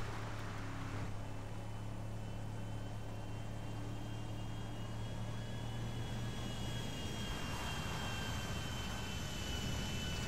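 A private airplane in the video game GTA V drones with a steady engine tone, faint and continuous throughout, with a low hum that fades partway through and no talk.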